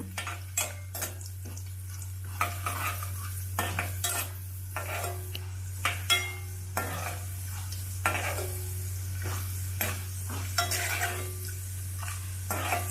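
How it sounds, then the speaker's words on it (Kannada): Urad dal and chana dal fry in oil with cumin and curry leaves for vegetable rava upma, a quiet sizzle under repeated sharp clinks of a spoon stirring against the pan at an uneven rhythm. "ಉದ್ದಿನಬೇಳೆ ಕಡಲೆಬೇಳೆ ಇದು ಸ್ವಲ್ಪ ಫ್ರೈ ಆಗಲಿ"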